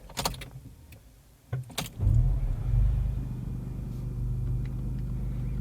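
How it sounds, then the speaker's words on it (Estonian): A 2025 Opel Frontera's engine cranks and catches after a few clicks and a short whir, then settles into a steady low idle close by, with no talking over it. "Ma arvan, et paneme mootori käima."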